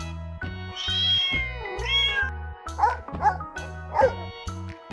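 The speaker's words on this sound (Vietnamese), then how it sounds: "Con chó." A dog gives a few short, sharp barks in quick succession near the end, following drawn-out cat-like meows, all over a rhythmic music bed.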